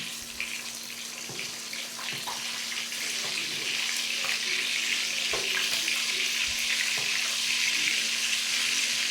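Koi fish frying hard in a pan, a steady broadband crackle and hiss with scattered pops that carries on throughout at moderate level with no talk.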